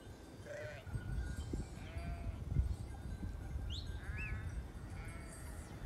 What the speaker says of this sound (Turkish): Bizim koyunlar.